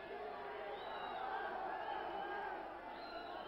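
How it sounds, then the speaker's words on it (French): A dense boxing-arena crowd roars and shouts its disapproval at the fighter Quasimodo, a continuous, loud surge of massed voices with a few rising whistle-like tones cutting through, steady throughout. "cette houle des cris, cette houle des sifflets, cette marée de la foule autour de lui qui crie sa réprobation à Quasimodo"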